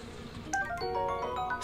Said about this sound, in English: Yo, these bees need to chill out.